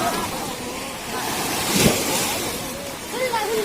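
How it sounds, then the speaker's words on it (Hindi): Rushing roar of the fast-flowing, flooded Gandak river, a steady broadband wash with wind buffeting the microphone and a brief louder surge near the middle; a voice speaks faintly beneath it. "आप नदी की आवाज़ को खुद सुन सकते हैं कि इसका क्या।"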